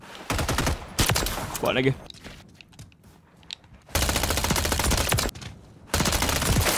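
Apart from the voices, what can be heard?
gunfire from the video game Call of Duty MW3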